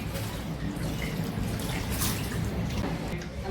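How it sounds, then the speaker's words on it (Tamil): Water is poured over pieces of a large cut fish to wash it, a steady splashing rush that runs without a break for a few seconds. "ஹெல்ப் பண்ணிக்கிறாங்க தண்ணிலாம் ஊற்றி."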